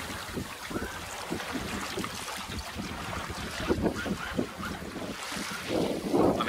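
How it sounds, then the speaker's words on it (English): Strong wind blows steadily across a single-handed sailboat underway, with buffeting gusts on the microphone and waves washing against the hull. "We'll see how I can do against the wind."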